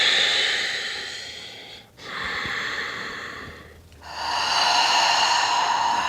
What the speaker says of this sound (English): The inhale is through the nose.